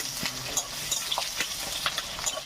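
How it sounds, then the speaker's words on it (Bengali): Chopped onions frying in oil with bay leaf and whole cardamom in a kadai, stirred with a spatula: soft sizzling under repeated scraping and light clinks, close and fairly quiet. "একটু নাড়াচাড়া করে নেব।"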